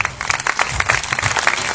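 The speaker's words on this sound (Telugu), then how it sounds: "అలాంటప్పుడు దేవుని మహిమపరచడానికి చప్పట్లు కొట్టాలి" A seated congregation at an outdoor religious meeting in a village claps together, a brisk, irregular burst of many hands close by, lively and fairly loud with no talk over it.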